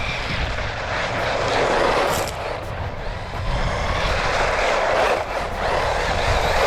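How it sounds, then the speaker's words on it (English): An RC buggy car swings through wide turns on a dirt lot, its motor giving a loud, constant buzzing whine that rises and dips slightly, with no voice over it. "I had to come here and just bust some wide turns, watch the dirt fly off the wheels"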